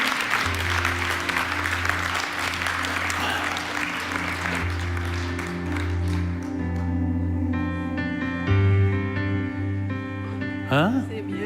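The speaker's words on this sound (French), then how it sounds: "On applaudit Jésus." Congregation clapping for Jesus during a charismatic church service, applause mixed with sustained organ or keyboard tones and some voices, a full, loud room.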